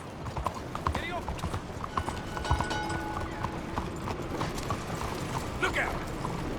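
Horse hooves clip-clop at a steady trot through the streets of Saint Denis in the Red Dead Redemption 2 video game, with rattling tack and voices talking over the hoofbeats.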